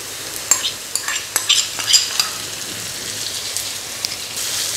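Tamarind being stirred into a pan of frying Andhra fish curry (chepala pulusu): a steady sizzle with scattered scraping and clacking stirring knocks, close and fairly loud, with no talking.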